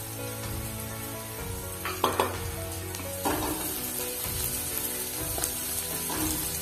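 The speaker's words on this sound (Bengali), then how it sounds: "এরপর এটাকে ভালো করে নেড়ে নিচ্ছি এবং ভালো করে বাদামি করে ভেজে নিচ্ছি।" Dried red chilli and finely chopped onion fry in a pan with a bright, steady sizzle. Occasional clinks and scrapes come as the pan is stirred, close and clear.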